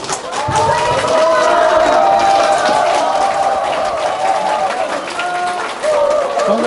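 An audience at a lecture by Huh Kyung-young gives loud, dense applause with cheering, the crowd noise steady and close for several seconds.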